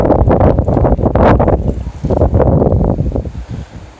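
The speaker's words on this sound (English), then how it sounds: "Y'all can hear the wind blowing." Strong wind on the Gulf Coast ahead of an approaching storm, a loud continuous buffeting roar with heavy gusts hitting the microphone, swelling and easing throughout.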